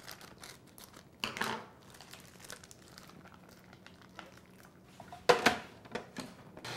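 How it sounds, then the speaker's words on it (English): Scissors snip and crinkle through plastic packages of thawed strawberries in syrup, close and quiet, with a few sharper crackling bursts of packaging among softer rustles. "I'm going to cut them open and pop them into the food processor"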